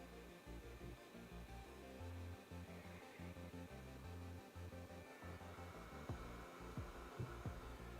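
Steady broadband blowing hum of a hot air heat tool running continuously while desoldering capacitors on a 1990s Sega Game Gear circuit board, with faint low thumps and handling noises underneath.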